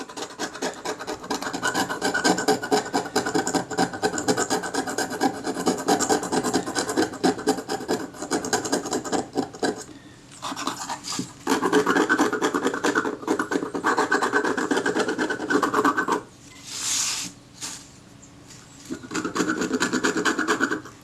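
A blade rasps back and forth scraping corrosion from the aluminium back of a Kodak Retina camera, close and loud, in long runs of repeated strokes broken by brief pauses.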